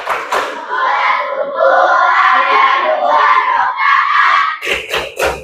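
A group of people clapping and chanting together during a tepuk sholat classroom ice-breaker, loud voices in unison with sharp claps bursting at the start and in a quick run near the end.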